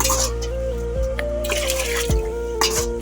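Water drains from a raksi still into a pot in a village, making soft dripping and trickling sounds over a steady low hum.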